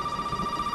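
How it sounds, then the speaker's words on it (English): A telephone rings in the video game Resident Evil 7, a steady electronic tone held through the whole short moment, moderately loud over a low room hum. "Now the phone wants to ring."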